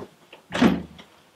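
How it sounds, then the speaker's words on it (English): A door closes and locks with one firm, close mechanical thunk, followed by a faint click in an otherwise quiet space. "Lock the door."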